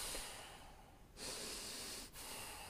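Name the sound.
chi breathing exercise, breathing in through the nose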